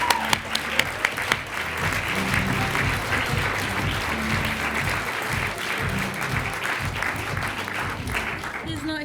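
Sustained applause from an audience at a university teaching awards ceremony, greeting the winner of the Innovative Teaching category; dense steady clapping fills the whole stretch at even loudness, with no voices over it.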